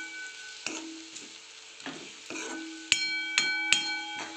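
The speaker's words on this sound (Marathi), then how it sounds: "मसाला परत एकदा मिक्स करून घ्यायचं आहे" Spoon stirring masala into cluster bean vegetable in a pan, with soft sizzling and several ringing metallic scrapes and taps against the pan, close and fairly quiet.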